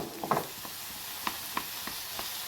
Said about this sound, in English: we're just going to add a little bit more oil. And then we're going to add the rest of the vegetables